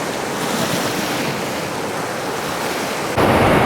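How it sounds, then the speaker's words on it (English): River water rushing into Folsom Reservoir, a loud, steady broadband roar of fast-moving current with wind buffeting the microphone, swelling louder near the end. "we're talking tens of thousands of gallons, cubic feet actually, of water rushing by us into the Folsom Reservoir right now"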